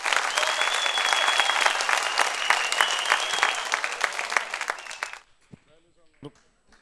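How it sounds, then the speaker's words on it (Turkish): Big, sustained studio applause from a Turkish TV audience, loud and dense for about five seconds before cutting off, followed by a few faint voices in near silence. "Büyük bir alkış, büyük bir alkış"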